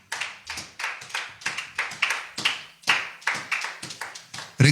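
A church congregation claps steadily in praise of the Lord, roughly a dozen sharp, evenly spaced hand claps over a few seconds, loud and close, with no talking over them.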